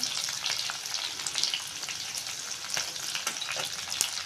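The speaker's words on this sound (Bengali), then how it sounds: "আমি মশলার সাথে পেস্টটা ভালো করে ভেজে নেব।" Spice paste frying in a pan with a steady, close sizzle and occasional stirring scrapes, for a potato and egg bhuna dish.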